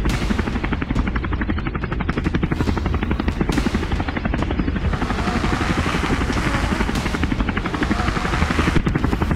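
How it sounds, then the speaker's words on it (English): Helicopter arriving in the Android game Narqubis: a loud, rapid rotor chop with a buzzing engine drone that continues steadily throughout. "Chopper on its way."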